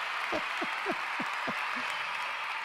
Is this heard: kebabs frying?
no